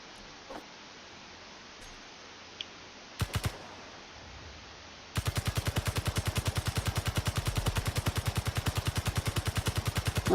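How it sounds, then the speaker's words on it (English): Character rifle fire in the Space Engineers video game: after a quiet stretch with a few isolated clicks, a long rapid automatic burst of evenly spaced shots runs steadily to the end, close and loud, with no talking. "Let's just pull out a rifle."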